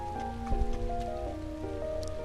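Rain falls steadily in The Legend of Heroes: Trails of Cold Steel, a soft constant patter under sustained game music tones.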